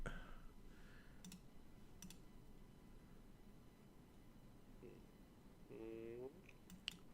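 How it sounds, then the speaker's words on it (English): A computer mouse clicks a few times, with sharp, faint, isolated clicks spaced through a quiet room, plus a brief tonal blip near the end. "I'm clicking it now."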